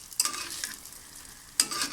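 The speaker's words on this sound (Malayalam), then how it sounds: "അപ്പോൾ ഞാനങ്ങനെ മുട്ട വറുത്തുകൊണ്ടിരിക്കുകയാണ്" Eggs fry in a pan with a steady soft sizzle, broken by two sharp stirring or scraping bursts from a spatula, close and fairly quiet with no talking.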